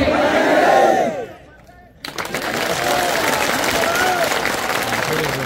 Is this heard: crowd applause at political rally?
yes